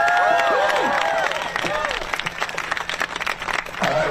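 An outdoor protest crowd outside Harvard applauds and cheers a speaker, with dense clapping and whoops that are loudest at the start and then thin out, while a voice carries over it.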